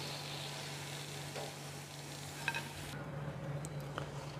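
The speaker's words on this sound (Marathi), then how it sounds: "ह्याच पद्धतीने राहिलेला सगळा फ्लावर मी तळून घेणार आहे" Cauliflower florets for gobi manchurian deep-fry in hot oil with a steady, close sizzle and a few light stirring clicks and scrapes, then the frying noise drops off toward the end.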